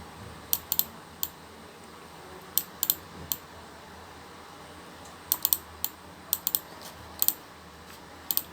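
Sparse clicks of typing on a computer keyboard in a networking lab, keys struck in short bursts and single taps over a quiet room hum, with no talking.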